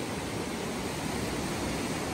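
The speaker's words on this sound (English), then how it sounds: "What a raging river it is." The McCarthy River, silty with glacial water, rushes in a steady broadband roar of turbulent flow, loud and unbroken, with no voices.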